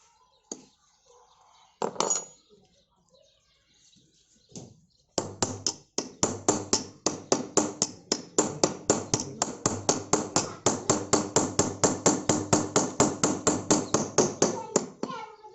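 Hammer blows on a screwdriver set against the corner of a bike's front fork lock: a few scattered taps, then a long, steady run of sharp, evenly spaced metallic strikes, loud and close.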